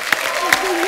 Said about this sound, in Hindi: जोरदार तालियां मिलाप के लिए.